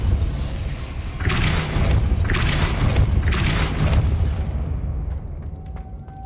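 Depulso force spell cast in the Hogwarts Legacy video game, sounding as three bright, crackling magical bursts in quick succession over a low rumble and then fading into quiet chimes.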